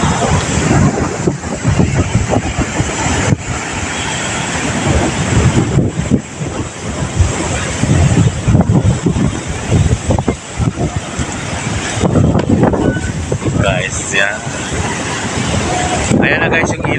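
Strong waves and gusting wind roar continuously where a river meets the sea during Typhoon Falcon, a loud, dense, unbroken wash of surf with wind buffeting the microphone throughout.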